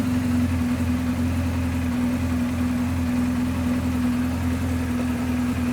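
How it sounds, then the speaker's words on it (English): A BMW R 1250 GS Adventure motorcycle engine idling steadily nearby, a constant low throbbing rumble with a faint mechanical whine, no talking. "So now the engine's running"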